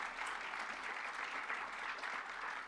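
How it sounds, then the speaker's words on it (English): Audience applause at an economic forecast lecture, a steady, fairly faint wash of many hands clapping with no speech over it. "That sounds like an applause line to me."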